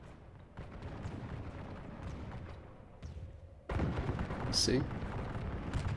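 Musket volleys in a 1648 Thirty Years' War battle game, with Gustavus's lifeguard and flank musketeers firing beside pikemen: dense, rumbling gunfire that swells louder midway, under a voice.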